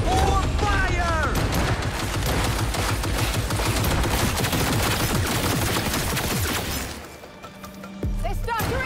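Sustained automatic gunfire in the video game Cyberpunk 2077 Phantom Liberty, with dense rapid bursts, crashes and impacts filling most of the stretch, easing briefly near the end before a final burst.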